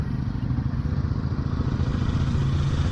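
A Royal Enfield Guerrilla 450 motorcycle engine chugs at about 2000 rpm in second gear, a steady uneven thudding drone that sounds labored and strained, close to the listener.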